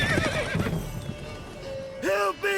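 Roach the horse from The Witcher 3 whinnies loudly with a quavering neigh, then gives a second high-pitched neigh near the end, over clip-clopping hooves and game ambience.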